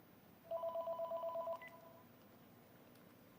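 An incoming call on a phone sounds as a quick series of about eight evenly spaced electronic tones, fairly loud, followed by faint room noise.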